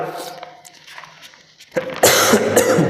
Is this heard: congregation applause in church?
no